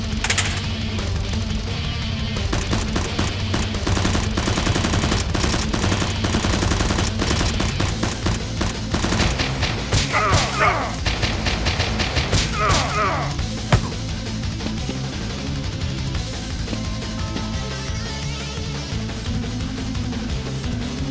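Rapid bursts of toy blaster fire and clattering impacts pour out continuously during a Nerf gun battle, dense and loud throughout, with brief shouting voices mixed in.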